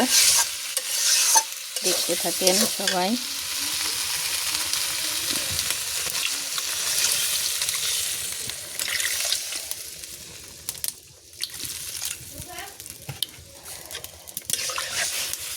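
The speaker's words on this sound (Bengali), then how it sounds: "তো আমি এর মধ্যে ঝোলের পানি দিয়ে দিলাম" A pangas fish curry sizzles loudly in a pan after water is added for the broth, with steady frying hiss, scraping stirs and a short spoken remark.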